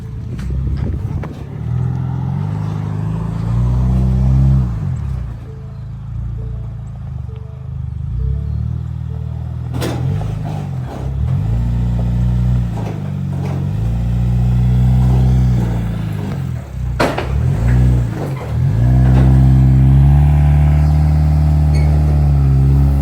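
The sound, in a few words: Ford Bronco tires spinning without four-wheel drive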